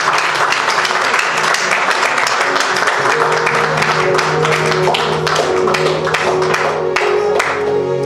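Loud, dense applause from a church congregation at a women's day service, sustained and steady for the whole stretch, with a faint tonal murmur underneath.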